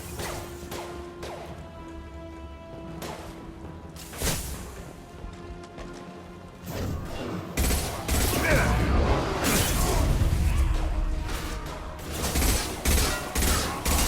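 Squads firing in the video game Mass Effect 2 combat: rapid volleys of gunfire and crashing impacts, building from scattered sharp bursts to a dense sustained barrage, mixed with mechanical whirs and whooshes, with a voice speaking between shots.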